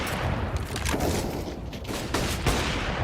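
Dense bursts of rifle fire and clattering impacts from a professional CS:GO match, Astralis versus Gambit at DreamHack Masters, sound loud and continuous with sharp cracks standing out.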